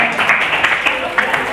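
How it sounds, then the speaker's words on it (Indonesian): Classroom applause for student groups, a brief, steady patter of clapping from a small group of students, close and moderately loud. "Oke, tepuk tangan untuk semuanya."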